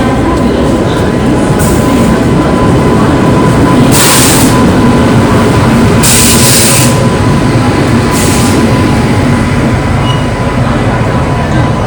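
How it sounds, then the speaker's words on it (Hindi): An express train pulling into a railway station in India on the Dibrugarh to Kanyakumari route, with a loud continuous rumble and rattle of rolling coaches close by and a few bursts of hissing brakes. "ट्रेन आ चुकी है।"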